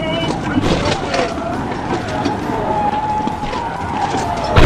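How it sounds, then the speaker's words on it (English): A car slides out of control at high speed during a police chase, broad engine and tire roar sustained throughout with a louder surge at the end, loud and close. "But his car slid and hit a concrete wall."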